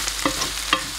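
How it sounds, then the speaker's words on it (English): Rice being stirred into softened tomatoes and onions in a pan for kabsa, a quiet steady sizzle with two brief spoon scrapes, close and with no voices. "I've just added my rice to the tomatoes and onions, and I'm just going to mix them around a little bit."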